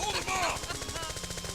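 Gunfire in Final Fantasy VII (1997) clatters in a fast, even stream of retro game shots, with music and effects layered over it.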